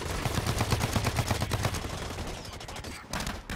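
Heavy assault rifle fire in the video game Bioshock Infinite: a rapid, loud stream of gunshots through the first half, then scattered shots and a brief lull before firing picks up again.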